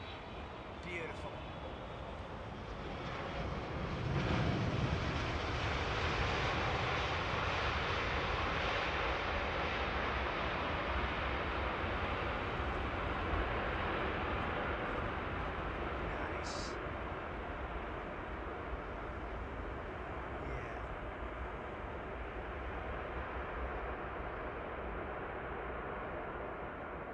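A Kuwaiti jet aircraft roars past as a broad, steady rushing engine noise that swells early and then holds, with a voice talking over it.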